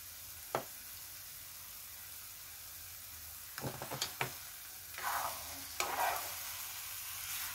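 Vermicelli with powdered milk being gently stirred in a pan, quiet sizzling with soft scattered clicks and scrapes of the spoon, a few louder stirring strokes near the end, alone.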